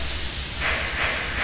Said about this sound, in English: I think the brakes have just gone.